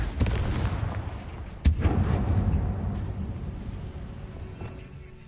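A Confringo fire spell blasts in Hogwarts Legacy, giving a sharp booming hit followed by a rumbling, fading explosive tail over the game's background noise.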